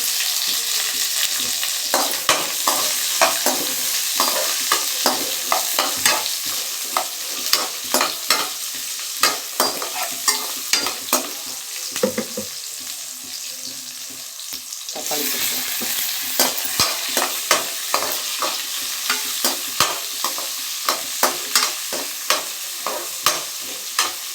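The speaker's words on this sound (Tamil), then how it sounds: "வெங்காயம் கொஞ்சம் நிறையவே நான் போட்டேன்" Onions fry in a pan for bottle gourd chutney, a loud, continuous sizzle broken by rhythmic scraping strokes of a spatula stirring the pan, close up and without any talking.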